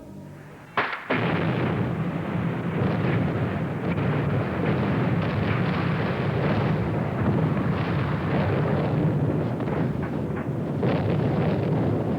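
A single heavy blast goes off in New York tunnel construction: a sharp boom followed by a long, loud rumbling roar that carries on steadily for many seconds.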